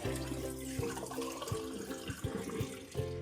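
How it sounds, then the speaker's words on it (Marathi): Water runs and splashes over a stone grinding slab as it is washed, a continuous gurgling flow with several bumps and knocks of the stone through it. "हा पाटा आहेत ना छान असा स्वच्छ धुवून घेऊ आपण"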